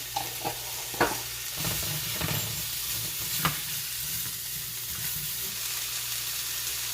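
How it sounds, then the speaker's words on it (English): Onions sizzle in a pan of cooking beef tips in gravy, a steady close frying hiss with a few soft stirring scrapes and clicks standing out above it. "add your onions. Just a little salt, not much. It starts it to sweat."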